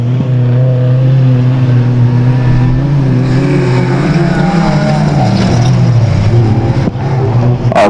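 Hot rod race cars roar past on Stansted Raceway, a loud engine note that rises and falls as cars pass, with another car passing near the end.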